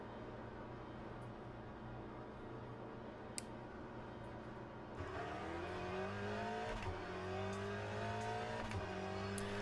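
An Aston Martin race car engine in the Le Mans Ultimate racing game hums steadily, then revs up more loudly at about the halfway point, with rising and falling tones through the gears.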